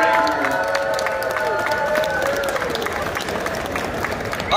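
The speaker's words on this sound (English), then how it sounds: "let's go ahead and get a round of applause for Walter Jones" At a collectibles convention in Long Beach, a crowd applauds and cheers for Walter Jones, the Black Power Ranger, a dense, loud wash of clapping with a voice briefly heard over it.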